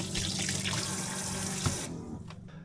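A tap on a small hot water system runs steadily, a loud continuous splash of water into a basin, then eases off and thins near the end with a few drips and knocks.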